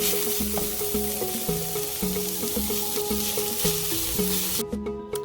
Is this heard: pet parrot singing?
no